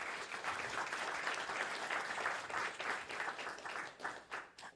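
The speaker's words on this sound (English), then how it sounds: "Please, a round of applause for Joe." An audience at a tech panel night gives steady, dense applause for a speaker, filling the room evenly and tapering slightly toward the end.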